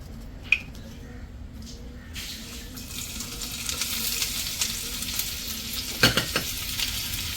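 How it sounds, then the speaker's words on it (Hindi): A tadka of fennel seeds and ajwain sizzles steadily in a hot pan for dahi bhalle, a constant crackling hiss with occasional stirring scrapes and small pops, close by and growing slightly busier. "तो इसको तड़का लगा के फिर इसको डाल लेते हैं दही बल्ले में"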